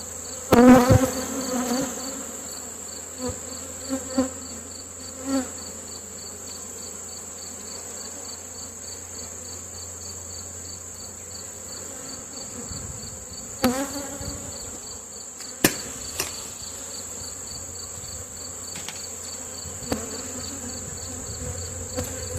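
Honeybees hum around an open hive during fall feeding and queen marking, a steady dense buzz close by that runs throughout, with occasional handling knocks and clicks and a louder bump at the start.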